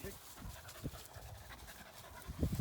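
A working gundog out retrieving in windy open country pants rapidly and steadily at close range, while someone talks over the panting.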